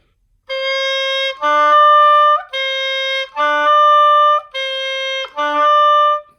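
A bassoon or oboe playing half-hole D with a poorly timed finger roll, giving a growly, bumpy start: six sustained reed tones in alternating pairs, each pair broken by a brief blip in pitch, close and loud with no talk.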